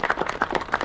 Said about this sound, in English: So I'd like to show you another round of applause